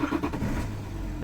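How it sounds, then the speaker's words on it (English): BMW E90 330d diesel with a rough cold start and poor running, its engine turning over and catching into a steady close idle rumble, with no voices over it. "Let's gonna now start the engine again."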